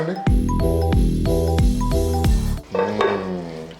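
A metal spoon scrapes and clinks rhythmically against a pan as onions fry for Andhra fish curry, about five even strokes over steady sizzling, then a looser final stir.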